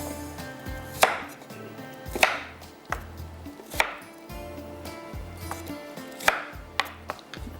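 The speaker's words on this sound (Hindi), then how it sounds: "प्याज को भी इसी तरह से टुकड़ों में काट लेते हैं" Onion being cut into pieces with a knife on a board: a series of sharp, irregular chops spaced about a second apart, close and clear, with no speech.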